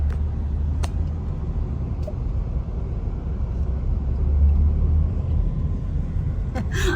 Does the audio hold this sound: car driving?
yes